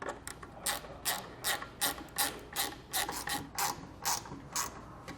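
A ratchet wrench tightens bolts on a tailgate reinforcement kit on a 2013 Jeep Wrangler, quick rhythmic clicking strokes repeating steadily, close and fairly quiet.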